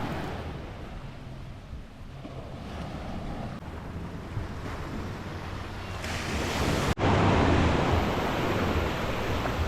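Waves wash onto a beach during an evening walk, a continuous hiss of surf mixed with gusting wind buffeting the microphone, with a brief sharp break near the end.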